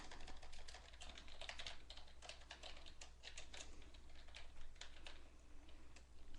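Steady, rapid typing on a computer keyboard, dense clusters of key clicks running continuously at close range with no talk over them.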